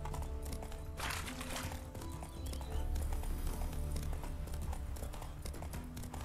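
A horse's hooves clip-clop steadily in The Witcher 3 video game, an even rhythmic trot of close hoofbeats over a low ambient drone, with no talk.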